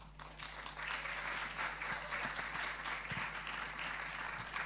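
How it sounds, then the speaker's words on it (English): Audience applause fills the hall at a culture and banking event, a steady, even wash of many hands clapping from start to finish, fairly faint and distant with no talk over it. "I think he needs another round of applause."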